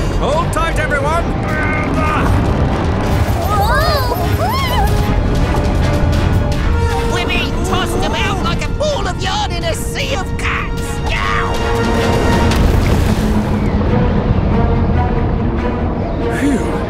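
Cartoon storm at sea tossing a submarine: a loud, continuous roar of churning water with crashing impacts and swooping tonal effects over a musical score, close and unbroken throughout, with brief voice-like sounds.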